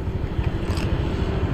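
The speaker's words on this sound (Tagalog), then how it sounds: "Ay, motor pala. Ay, motor." A motorcycle passing nearby on a loop ride, a steady low engine rumble holding for about a second and a half with no talk over it.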